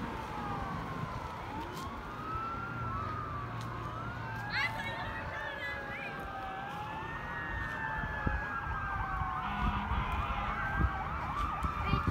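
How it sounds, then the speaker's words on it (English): Emergency vehicle sirens at a graduation parade wail with rising and falling sweeps, growing steadily louder as the vehicles approach again, over a busy outdoor crowd murmur. "As you can hear, the sirens are getting louder once again"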